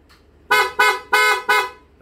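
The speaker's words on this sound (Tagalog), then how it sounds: "Busina." Four loud, evenly spaced blasts from an original PIAA horn fitted to a Honda Click V3 scooter, each about a quarter second long, sounding close up with no talking over them.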